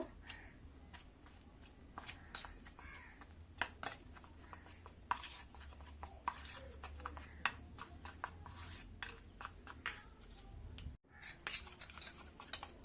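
A spoon stirs 4 to 5 tablespoons of soybean oil into a cornflour paste in a bowl for rumali paratha, giving close, irregular clinks and scrapes against the bowl with soft wet mixing between them.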